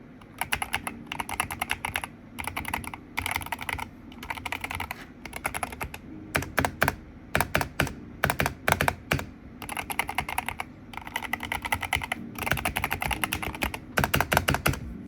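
Crisp, clacky mechanical keyboard typing in rapid bursts with brief pauses, close and clear, no voices.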